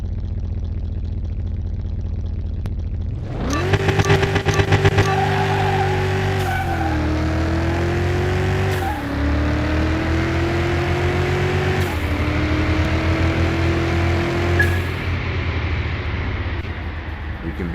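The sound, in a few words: race car engines in Car Mechanic Simulator 2021 race, video game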